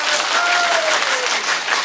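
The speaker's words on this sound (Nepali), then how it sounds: "यदि यो जोडीको आजको गीत सही लाग्यो भने जोरदार ताली दिनुहोस् त सबैले" An audience at a live Nepali dohori song performance applauds with dense, steady clapping, loud and sustained throughout, while a faint voice sounds in the background.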